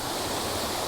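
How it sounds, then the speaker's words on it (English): Horseshoe Falls waterfall in Mt Field National Park, a steady dense roar of falling water, close and loud, with no voices. "So obviously Horseshoe Falls, because of the shape of the waterfall, the way it curls around"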